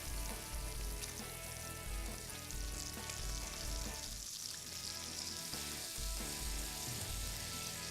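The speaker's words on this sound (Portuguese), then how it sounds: "o bacon começou a dourar," Bacon fries in a pan for pinhão recipes, a steady crackling sizzle with constant bright hiss and popping spatter running unbroken throughout, close and fairly loud, with no voices over it.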